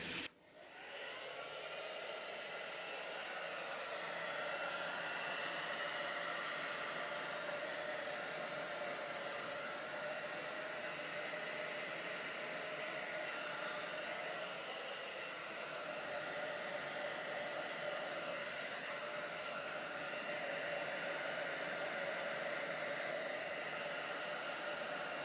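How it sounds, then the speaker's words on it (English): A hair dryer blows steadily and continuously over resin art, a smooth even rushing whir from start to finish with no voices. "Hit that with a hairdryer."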